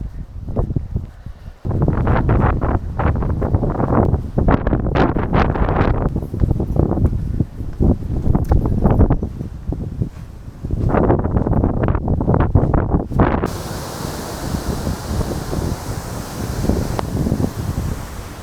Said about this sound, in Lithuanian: Tai ar tu gali plaukti per tokį vėją?